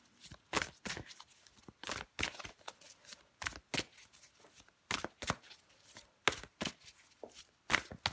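Tarot cards are shuffled over and over in a close, crisp run of riffling bursts with short gaps, and no voice is heard.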